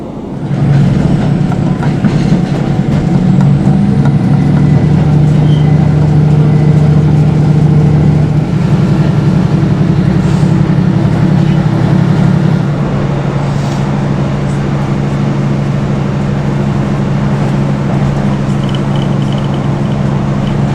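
Inside a Northern train carriage running from Stockton toward Newcastle, a steady low rumble and engine drone continue with faint rail clatter and occasional squeaks, loud and continuous with no talking.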